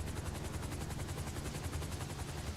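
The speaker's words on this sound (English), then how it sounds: "No, this is why we got the helicopter." A helicopter in the video game GTA Online gives a loud, steady rotor chop throughout, with fast rhythmic thumping that pulses like rapid fire over a dense engine roar.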